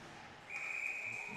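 A referee's whistle blows one sustained, steady blast at an amateur women's hockey game, moderately distant and alone, with faint arena ambience.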